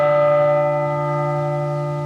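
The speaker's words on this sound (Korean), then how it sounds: "이 종소리가 계속 나요" Sensor-triggered bell in a Buddhist-themed maze park, one clear struck tone ringing out and sustaining with a slow, steady decay, close and alone.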